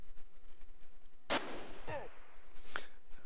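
A single sharp sniper rifle shot in Jagged Alliance 2: Urban Chaos, a loud close crack followed by a decaying ringing tail and a fainter secondary report, set against a low quiet background.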